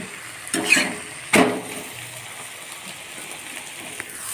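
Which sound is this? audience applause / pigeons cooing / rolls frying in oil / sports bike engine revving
rolls frying in oil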